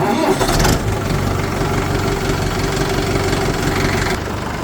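A diesel tractor engine, freshly filled with new engine oil, cranks briefly and catches, then settles into a steady, loud idle close by with a low rumble.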